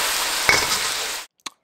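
Spoon or spatula stirring Sichuan-style braised eggplant in a hot pan, a steady close sizzle with scraping for over a second, then a brief clink after a pause.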